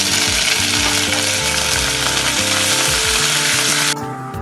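Curry leaves hit hot oil in a pan with roasted dried chillies, giving a loud, continuous crackling sizzle with stirring scrapes that stops abruptly near the end.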